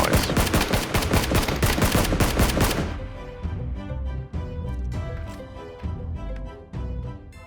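Rapid gunfire in the battle royale game PUBG, loud bursts of dense automatic shots at first, then a quieter stretch of scattered distant shots and game ambience.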